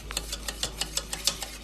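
A spoon stirs a pot of thickening food during a community meal, making a quiet, steady run of light scraping clinks, roughly six per second.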